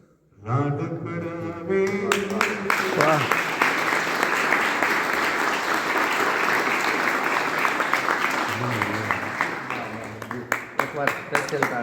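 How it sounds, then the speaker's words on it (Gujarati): Audience applause at a live Gujarati folk music talk on lullabies and wedding songs, sustained dense clapping swelling after a voice and tapering off, loud and close, with a few isolated claps at the end. "જોરદાર તાળી થઈ ગયો"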